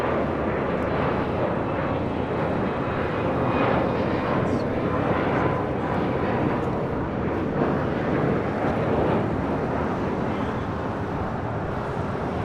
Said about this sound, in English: China Airlines Cargo Flight 5138 coming in from Taipei and a 777 freighter